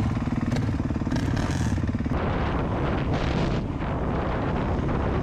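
A motorcycle ridden outdoors on a trail, its engine running steadily close to the rider under heavy wind buffeting across the microphone, with a rhythmic clattering pulse in the first two seconds.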